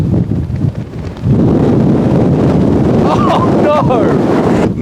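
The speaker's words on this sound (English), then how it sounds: "Wind now is really, really blowing." Strong wind blowing across a golf course roars and buffets loudly against the microphone, with a brief gust-lull before the rush resumes. A person exclaims partway through, and faint birdlike chirps sound near the end.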